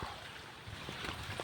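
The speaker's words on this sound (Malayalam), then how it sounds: "വെള്ളം കയറി ഒഴുകുന്ന ഒഴുക്കുണ്ട്." Floodwater flowing through a flooded Kuttanad farmyard in Kerala, a steady broadband rush with low churning and occasional splashes, continuous and fairly close.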